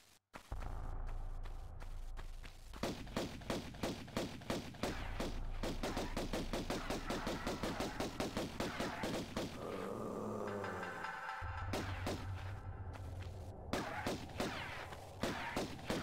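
Sustained gunfire in the original Tomb Raider video game, rapid repeated shots in a steady stream with a brief lull and heavier bursts, loud and dense throughout with no speech.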